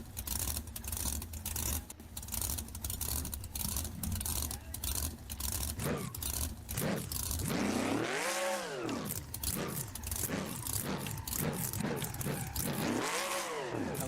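Car engine sound from BeamNG: a rough idle with uneven chatter, then two rising-and-falling revs that swell and fade.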